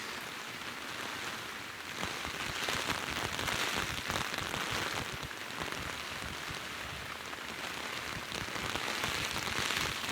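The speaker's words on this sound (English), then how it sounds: "we're going to accent the rain sound by giving it a little bit more realism as to where we are within the scene" Steady rain falls densely on hard surfaces, a continuous hiss of close, crisp droplet patter with no break, heard alone as an accent layer in a rainy Blade Runner style city ambience.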